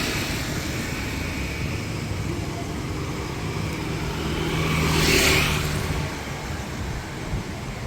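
Street traffic with tour buses in Da Nang, Vietnam, forms a continuous roadside drone, and one vehicle passes close around the middle, swelling louder before fading back into the background hum.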